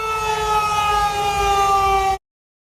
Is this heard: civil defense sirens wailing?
yes